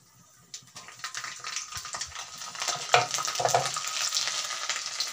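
Garlic goes into hot oil for a tomato pickle, starting as a quiet hiss that builds into a steady close bubbling sizzle with some stirring, and no one talking.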